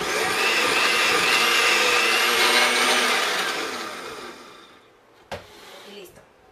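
A blender whirs loudly and steadily through blueberry chia pudding sweetened with agave syrup, a roaring motor that winds down after about four seconds, followed by a sharp knock and quieter handling sounds.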